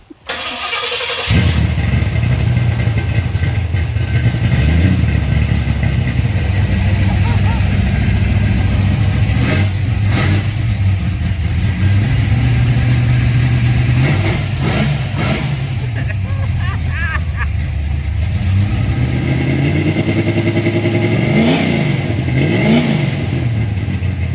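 A 1971 Ford Maverick on twin Flowmaster exhausts starts up and idles loudly with a deep, rumbling burble, swelling in several throttle blips and revs throughout; voices talk over the engine.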